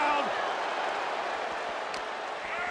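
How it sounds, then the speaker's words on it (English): Steady crowd applause and cheering from a virtual arena audience in the WWE 2K24 wrestling game, during a Roman Reigns vs Valkyria match, a continuous wash of clapping and murmur with no pauses. "The WWE Universe is showing their appreciation for the action they're seeing."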